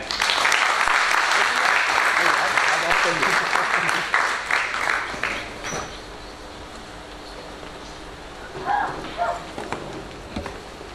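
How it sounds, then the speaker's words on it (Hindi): Audience applause at a stage event honoring a guest from a resources department, dense clapping for about five seconds that thins and fades, then quiet room murmur with a brief voice near the end. "सभी से अनुरोध है इसके लिए एक बार तालियां बजाएं"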